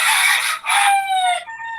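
A rooster crows once, loud and close, its drawn-out cock-a-doodle-doo call rising then falling and tapering off at the end, with no other sound around it.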